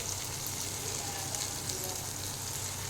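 Tomatoes and green chillies fry in a pan with a steady, soft sizzle that holds evenly throughout, with no talking.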